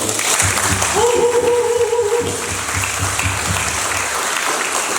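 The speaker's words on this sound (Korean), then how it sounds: "이경걸 회장님한테 큰 박수 한번 주십시오" A Korean citizens' association gathering and volunteer corps launch ceremony breaks into crowd applause for the association chairman. Loud, continuous clapping carries on throughout, with a brief tonal hum or voice-like sound early on beneath it.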